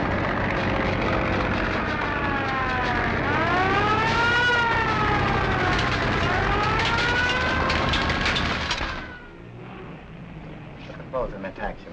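A fire engine siren from a nearby firehouse wails loudly in rising and falling sweeps, close and sustained, then cuts off abruptly, leaving faint background noise.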